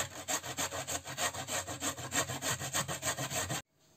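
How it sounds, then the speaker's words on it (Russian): A carrot being grated on a fine grater, giving a steady, loud, close rhythm of about a dozen even rasping strokes that stops abruptly near the end. "К натертому картофелю натираем тоже на мелкой терке морковь."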